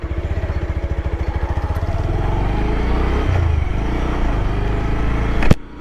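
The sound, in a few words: Bajaj Pulsar 150 motorcycle engine and exhaust on ride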